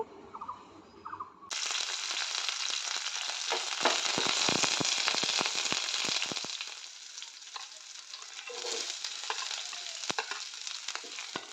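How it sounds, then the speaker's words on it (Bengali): Curry leaves and chopped green chillies hit hot oil for chirer polao, bursting into a loud, steady sizzle with scattered crackles and spatters, plus occasional scraping as the pan is stirred, close and continuous. "কাঁচা লঙ্কা দিয়ে আমি ভালো করে আবারও নাড়িয়ে নেব"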